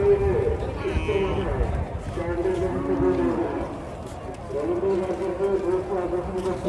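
Low, drawn-out cow moos recur several times amid outdoor crowd noise and people talking nearby at a cattle market.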